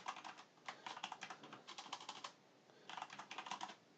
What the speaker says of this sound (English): Sorry about the keyboard and the sounds